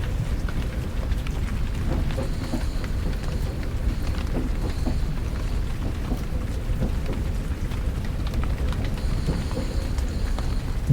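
Soft, steady rain patters continuously with gentle rumbling underneath, a close, even wash of drops that never lets up and carries no voices.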